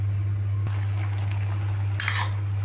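Ridge gourd curry simmers in milk in a covered pan, giving a soft, steady bubbling sizzle over a constant low hum, with a brief clatter near the end and no voices.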